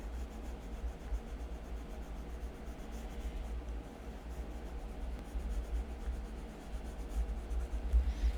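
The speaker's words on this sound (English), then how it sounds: "use my colored pencil to highlight" Colored pencil strokes rubbing steadily across journal paper, a soft continuous scratchy texture, close and quiet, alone with no voices.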